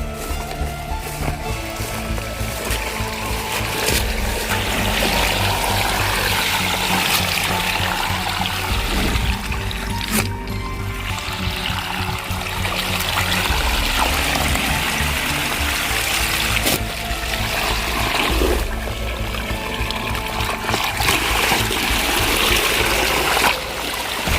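Irrigation water flows through a farm field at night, a continuous loud gurgling and rushing stream of water that runs steadily without pause throughout.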